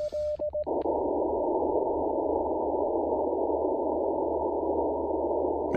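Steady Morse code radio sidetone during a field activation with a homemade military-fixture antenna, a few short keyed beeps then one long continuous tone held over a constant hiss of radio noise.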